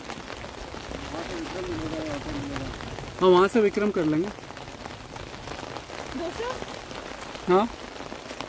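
Heavy rain pours steadily over a jungle near Dehradun during a trek, a constant dense hiss throughout, while people talk intermittently over it.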